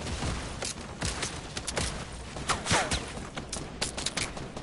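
Rapid bursts of gunfire in a shooter video game ring out in quick, uneven volleys, with crackling shots layered over constant game background noise.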